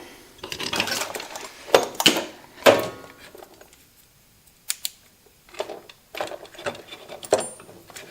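Small cooling fans on a Maico 660cc two-stroke dirtbike build switch on and off in a series of short bursts, each a quick whirring buzz with clicks between, close by and alone.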